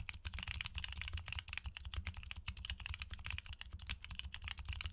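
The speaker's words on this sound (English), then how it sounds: "here's the sound test" Quiet mechanical keyboard switches being typed on, a fast, steady run of soft, muted clicks and thocks at close range, faint and continuous with no voices.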